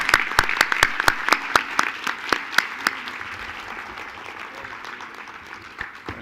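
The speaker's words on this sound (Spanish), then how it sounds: "quiero pedirles que despidamos a los compañeros de Venezuela y Nicaragua con un aplauso" An audience at a talk on the crisis in Venezuela and Nicaragua applauds to bid farewell to guests, with several loud, sharp claps standing out early before the applause fades to a quieter patter.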